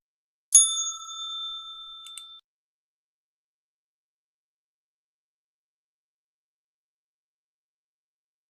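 One bright bell strike rings clear and close, a pure metallic ding that fades over about two seconds, followed by silence and a faint tick at the end.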